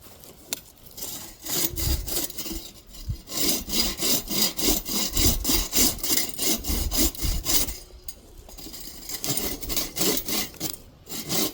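A hand saw rasps back and forth through wooden tripod pieces at a bushcraft camp, trimming the ends in rapid rhythmic strokes, loud and close, with a brief pause before the sawing resumes.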